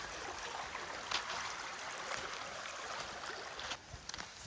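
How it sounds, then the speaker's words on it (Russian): A broad, continuous rush of water flows along a stream near Baida island on the Zaporizhzhia reservoir, steady and moderately loud throughout with no voices over it. "Теперь просто вот много воды течет."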